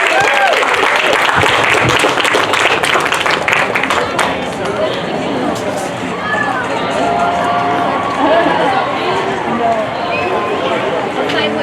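An audience at a Micronesian festival storytelling session claps and cheers loudly and close, a dense burst that softens midway into scattered clapping with chatter and voices.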